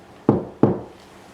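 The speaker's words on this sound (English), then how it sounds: "Can you knock like this?" Two sharp, hollow knocks close together, about a third of a second apart, rap on a solid surface during a paranormal investigation at an aviation museum, each fading quickly into quiet.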